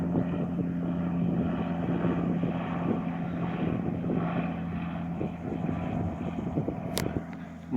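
A slow propeller plane able to carry about as much as a DC-3 and land at low speed, droning steadily with a low engine hum at the 2014 F5J German Open model glider contest in Weilheim, heard from a moderate distance under wind.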